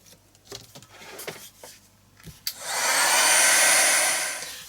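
A small handheld dryer starts after a few light taps and handling noises, then blows a loud steady whoosh to dry a Neocolor II watercolour art journal background.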